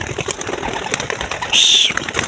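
Released pigeons burst into a short flurry of wing flaps near the end, a dense papery fluttering close by over faint outdoor background.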